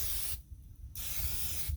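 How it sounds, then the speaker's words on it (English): Cooking spray hisses from an aerosol can onto a silicone egg ring on a Blackstone griddle, in two close, loud bursts separated by a short pause. "I'm going to spray this on the egg ring"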